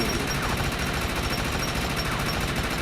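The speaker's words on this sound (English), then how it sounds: "This is an assault rifle. See, without aiming, it still gets, as the longer I fire, you notice that the reticle got bigger." Assault rifle gunfire in the video game Defiance: a rapid, continuous stream of shots at a steady, even rhythm, loud and dense throughout, with no talking.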